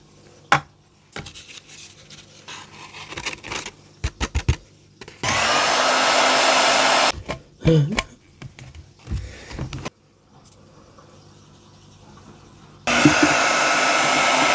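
A heat gun heats embossing powder on a handmade card in two loud, steady rushing blasts, each lasting a couple of seconds, with light tapping and handling clicks in between.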